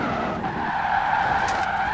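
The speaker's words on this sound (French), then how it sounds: "J'ai tenté de tourner avec le frein à main." Ferrari 575M Maranello in Forza Horizon 4 skids through a handbrake turn, its tires squealing in a sustained, loud screech over the engine's hum, with no talk.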